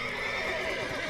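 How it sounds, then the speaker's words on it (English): Horses neighing in The Witcher 3 video game, a loud, close, drawn-out whinny with harsh breathy texture and no talk over it. "Gotta calm all the horses before they wake the guards."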